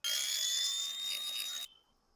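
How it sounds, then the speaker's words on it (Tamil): A small grinder works briefly on a lithium battery during an electric screwdriver repair: a loud, high whining buzz for about a second and a half, then it cuts off abruptly and a faint hum is left. "அதுக்கு மேல கொஞ்சம் கிரைண்டிங் பண்ணி விடணும்."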